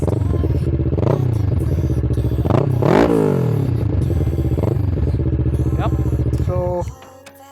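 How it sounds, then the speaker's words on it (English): A 2012 Kawasaki Ninja 650R with an aftermarket full-system exhaust idles with a deep, rumbling note and is revved in several quick sharp bursts, the loudest near the middle, before settling and cutting out. "Let's rev the bike a bit."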